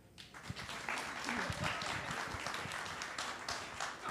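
An audience applauds a speaker in a large room, dense clapping rising quickly and holding steady, with some voices mixed in.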